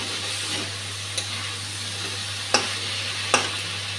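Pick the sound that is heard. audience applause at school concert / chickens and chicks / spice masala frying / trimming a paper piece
spice masala frying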